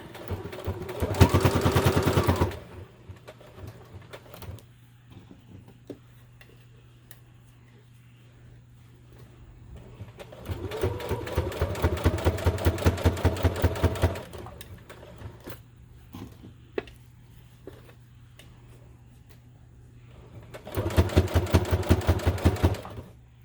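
Sewing machine stitching in three loud rapid bursts, each a few seconds long, separated by quieter pauses with a steady low hum underneath.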